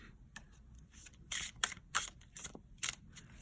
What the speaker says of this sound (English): Time to shuffle the next deck.